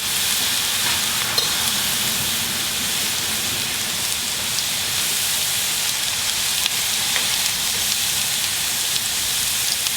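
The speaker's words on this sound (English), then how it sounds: "we're going to deep fry our garlic first of all" Garlic deep frying in hot oil gives a steady, dense sizzle and crackle that holds evenly throughout, close and fairly loud, with no talking.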